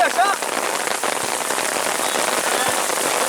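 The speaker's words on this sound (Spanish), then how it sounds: "ya llueve demasiado" Heavy rain pours onto a football pitch during an amateur league match, a dense, loud, steady hiss of drops with a brief whistle near the start.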